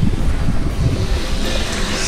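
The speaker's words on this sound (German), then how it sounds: "Und jetzt bin ich mal gespannt, ob jetzt gerade hier Wasser läuft." Water runs from a solar-powered pump into a 1000-liter tank on an off-grid plot, making a steady, close, loud rushing splash with no pauses.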